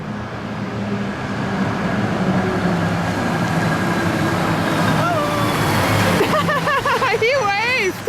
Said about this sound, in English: There's a tanker.